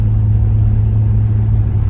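Steady low engine drone heard from inside the cabin of a moving car with the windows up and the Targa top down, a loud, constant rumble with no breaks.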